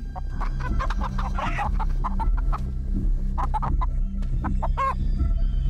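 A giant chicken in the horror stealth survival game Chicken Feet clucks repeatedly in quick, uneven bursts, loud and close, with a low game ambience droning underneath and no talking.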